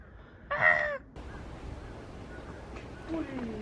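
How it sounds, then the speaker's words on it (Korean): A crow calls near a Busan seaside village, one loud harsh caw rising briefly above wind and ambient outdoor noise, followed by faint distant bird sounds and murmuring. "까마귀다."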